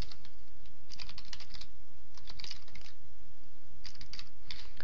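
Keystrokes on a computer keyboard while entering CSS code, coming in quick bursts of clicks separated by short pauses, close and fairly quiet with no talking.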